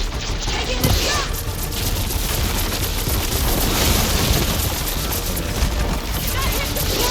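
Heavy weapon fire and explosive booms in the video game Horizon Forbidden West, a loud continuous barrage of blasts and crashes with voices shouting over the action.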